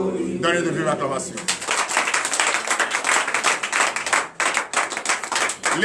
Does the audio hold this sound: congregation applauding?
yes